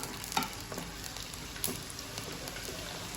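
Potatoes sizzle and crackle steadily in hot oil in a pan, a dense close frying hiss with a couple of brief stirring clinks, no talk.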